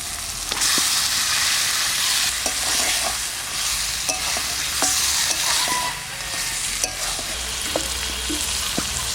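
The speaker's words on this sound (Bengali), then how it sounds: "চিকেনটা দিয়ে দিচ্ছি।" Salt-marinated country chicken hits a hot pan and fries with a continuous loud sizzle, while a utensil stirs and scrapes with intermittent clicks and knocks throughout.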